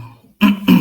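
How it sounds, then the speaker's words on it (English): A single short, rough cough bursts out twice in quick succession, close and fairly loud, after a brief quiet moment. "Sorry, I'm recovering from a cough, so if I hack up a lung, please excuse me."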